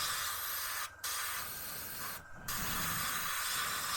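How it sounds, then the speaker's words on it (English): Airbrush spraying paint onto a Tamiya M1A2 Abrams scale model turret, a steady close hiss broken by two brief pauses before resuming. "pull back with the airbrush, and then we just fill that in"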